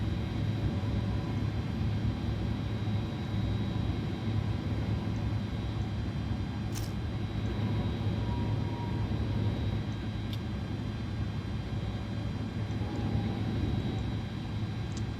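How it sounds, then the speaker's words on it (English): Airbus A310 jet engines running at taxi in Microsoft Flight Simulator 2020, a steady low droning hum with a faint high whine, continuous and even throughout. "that's the engines all started. Turn off the APU, and we can now taxi on out to the departure runway"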